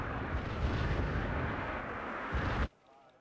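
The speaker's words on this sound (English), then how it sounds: "I'm also in the meantime making use of 2 AS-90s, and they were just used then to panic these 2 K-22 Tunguskas" AS-90 self-propelled artillery barrage in Wargame: Red Dragon, a dense, sustained rumble of heavy fire and blasts that cuts off abruptly near the end, leaving near quiet.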